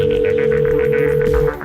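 A telephone rings during a call as a steady, fairly loud electronic tone with pulsing harmonics, continuing without a break and then cutting off just before the end.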